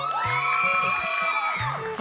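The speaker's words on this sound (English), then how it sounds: "They're cheering themselves." Young kids at a Bharatheeyatha cultural event cheer for themselves, with loud, high-pitched whoops and sustained excited shouting from a group of children, close and continuous.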